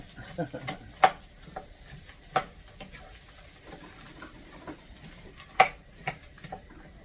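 Vegetables fry quietly in a pan for a meatless spaghetti dish, with a faint sizzle under scattered utensil clicks and a few louder knocks against the pan.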